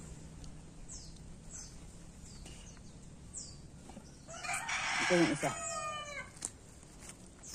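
A rooster crows loudly partway through, a drawn-out cock-a-doodle-doo in a rural Philippine province yard, preceded by faint chirping birds and quiet background voices.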